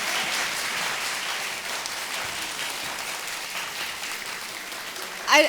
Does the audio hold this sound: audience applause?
yes